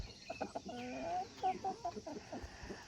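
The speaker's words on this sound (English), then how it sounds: "I think Randy and I have decided that we're going to keep this rooster right there" Chickens and a rooster from a backyard laying flock cluck softly at close range in short, irregular calls with faint background noise and no talking.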